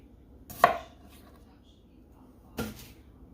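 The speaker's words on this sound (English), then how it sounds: "I'm just gonna take a minute, get them all cut up, and get anything that's ugly trimmed off." A knife chopping through red potatoes on a cutting board, two sharp, separate chops about two seconds apart, fairly close and moderately loud, with quiet kitchen background between them.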